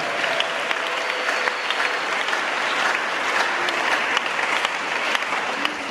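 An Easter retreat congregation claps steadily, in a dense, continuous round of applause that fills the whole stretch with no voices standing out.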